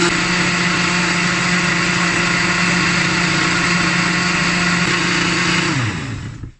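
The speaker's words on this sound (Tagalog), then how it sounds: "kasi yung medyo mahina na blender, hindi masyado makakablend ang mga gulay na ganito" A fairly weak kitchen blender purees vegetables with a loud steady whirring motor hum that runs unbroken, then winds down and stops at the end.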